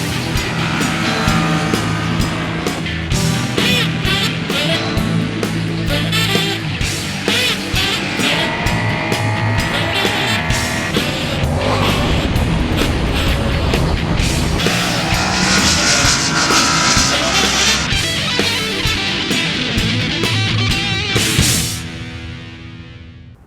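A Yamaha MT-07 and a Kawasaki ER-6N ride a race track, their engines droning loud and continuous with rising and falling revs, wind rush over the whole run before it fades out near the end.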